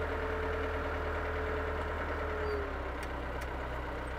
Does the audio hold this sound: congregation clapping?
no